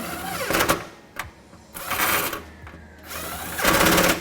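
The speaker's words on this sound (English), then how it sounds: "tighten them down with a 10mm socket" Hand tools working bolts on side step brackets through the pinch weld of a 2015 Dodge Ram pickup, with a 10mm socket tightening them down: repeated bursts of close, rapid clicking and whirring separated by brief pauses, with no voices.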